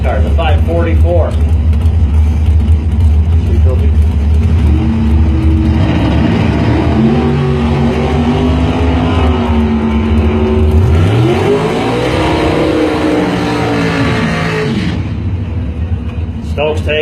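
Drag race cars, including a 1972 Dodge Challenger, roar at full throttle with deep, loud engine rumble, their pitch rising as they accelerate down the strip, while an announcer talks over the noise.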